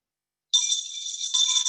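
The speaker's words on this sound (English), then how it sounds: "You're ringing the leaders with the bell" A bright bell rings after a brief silence for the trivia game leaders, a sustained shimmering ring with a second strike near the end, close and alone.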